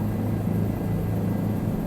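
A helicopter descending in Microsoft Flight Simulator 2020, heard as a steady, fairly loud low rotor and engine drone that holds an even level throughout, with no talking.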